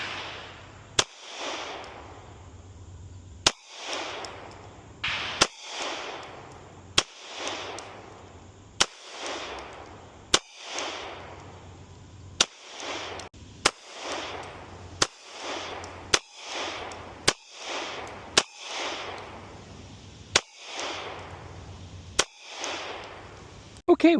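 A Ruger RXM pistol with an Icarus Ace grip module fires 115, 147 and 124 grain rounds at steel targets downrange, as sharp single shots spaced a second or two apart, each followed by a ringing decay, heard from a moderate distance.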